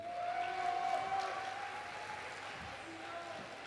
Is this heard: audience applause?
yes